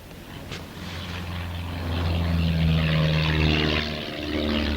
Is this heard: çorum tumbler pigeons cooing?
no